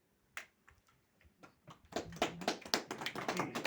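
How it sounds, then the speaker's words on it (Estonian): Applause breaks out at an awards ceremony handing out letters of thanks at a maritime school, starting as scattered taps and swelling into steady, moderately close clapping from a group. "Aplaus!"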